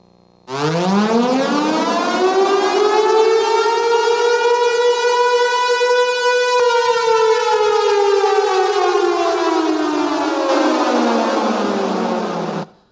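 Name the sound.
emergency siren sound played during a sermon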